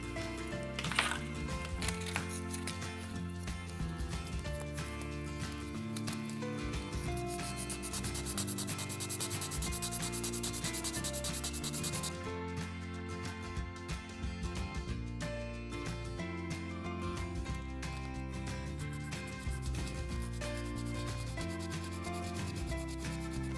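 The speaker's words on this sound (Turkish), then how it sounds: "Biraz da güçlü bir zımparaya ihtiyacım var. Onun için 400 numara zımparayla" Continuous rhythmic sanding with 400-grit sandpaper on a small diecast model car during restoration, rubbing back and forth in quick, steady strokes, close and fairly loud throughout.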